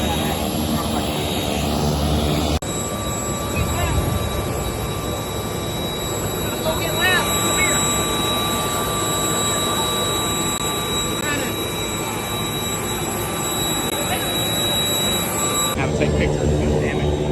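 A private jet's engines roar steadily inside the cabin as a loud, constant broadband rush with a high whine, persisting throughout with only small shifts in level.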